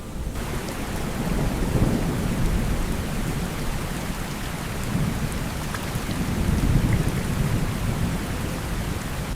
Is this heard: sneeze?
no